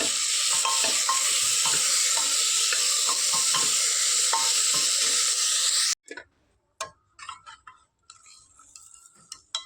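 Ginger, garlic and onion paste frying in a pan, a loud steady sizzle with faint stirring taps for about six seconds, then the sizzle cuts off, leaving sparse clicks and soft scrapes.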